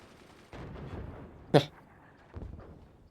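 Mortar salvos fire in a video game, a muffled burst of launches followed by one sharp, loud report at mid-clip and a softer thud near the end, set against low background rumble.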